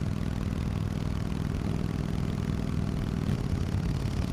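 A Harley-Davidson Forty-Eight Special motorcycle riding a sharply curving winter road near Daecheon Beach, with a steady, loud engine drone blended with rushing wind noise that stays constant throughout.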